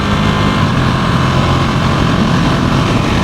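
Steady, loud broadband roar of motorcycle road and wind noise while cruising at about 100, engine holding near 5,000 RPM, continuous and unbroken throughout.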